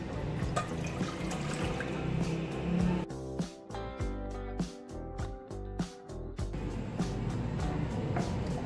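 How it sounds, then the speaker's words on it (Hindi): Water is poured from glasses into a cooking pan, a soft running and splashing flow that pauses into a few drips and then resumes, heard faint and close with no talking. "सबसे पहले हम पैन में लेंगे 2 गिलास पानी।"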